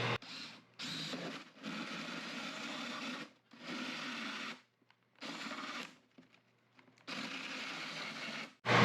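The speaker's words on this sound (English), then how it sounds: "Now I'm going to drill a hole to fit my older shop vac." A power drill whirs in several loud bursts, drilling a hole for a shop vac hose in a DIY downdraft table, stopping and restarting with short pauses between runs, close by.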